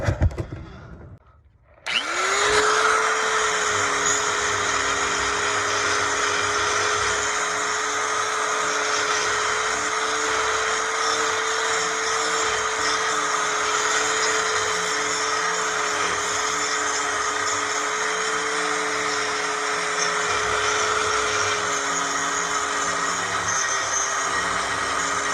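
A power drill drills out an electric exhaust cutout on a 2015 Ford Mustang, a steady, high-pitched whine that starts after a short quiet moment and keeps running, close and continuous.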